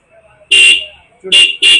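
Three loud, bright blasts from a Bajaj Pulsar N160 motorcycle's dual horn: a long first honk, then two shorter ones in quick succession, close by, with a faint voice before them.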